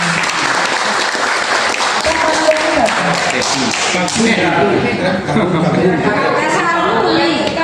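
An indoor audience at a business gathering claps loudly and continuously, with chatter and voices mixed into the applause throughout.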